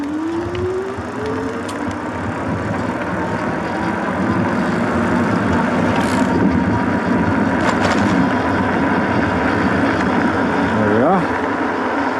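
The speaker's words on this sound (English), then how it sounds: "I'm going to do a couple acceleration tests with the throttle" A Hovsco A5 mountain cruiser e-bike with a torque sensor accelerates on throttle alone, no pedalling. A faint motor whine rises in pitch under steady wind and road rumble, with a second brief whine rising near the end.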